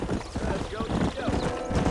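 A horse gallops with rapid hoofbeats in the video game Red Dead Redemption, loud and close, while someone speaks over the running hooves.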